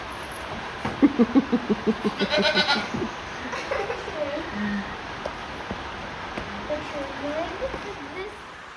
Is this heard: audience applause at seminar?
no